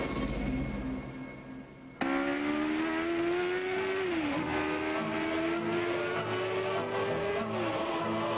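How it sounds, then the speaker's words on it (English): Nissan Z sports car engine revving loudly and accelerating, a sustained rising and falling engine note with a sharp onset after a quieter opening, heard alone without talk. "the last letter of the alphabet is the last word in sports cars. The new Z from Nissan."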